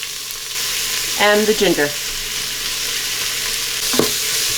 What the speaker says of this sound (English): That's been about 2 minutes that I've sauteed the onions